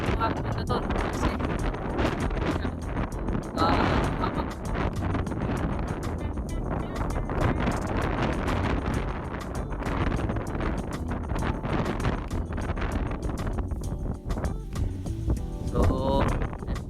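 Strong wind blowing over a rice field in Guimba, Nueva Ecija, a constant loud roar and buffeting against the microphone from start to finish.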